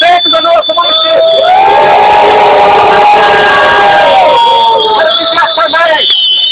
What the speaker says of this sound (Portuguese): Uma grande vaia para esse prefeito da nossa município